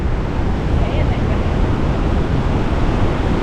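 Rushing water of the river in the canyon below Tumalo Falls near Bend, Oregon, a loud broadband roar that holds steady throughout, thick with low rumble and spray noise.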